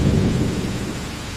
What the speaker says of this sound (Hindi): बारिश की बूंदें टिपिप आवाज पैदा करती थी।